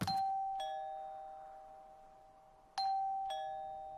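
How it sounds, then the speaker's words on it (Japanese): A doorbell rings twice in the horror video game Ju-on on the Wii, each ring a clear two-tone ding-dong whose tones hang and fade, heard alone in an otherwise quiet room. "これどこだ、ピンポンってなってるけど。"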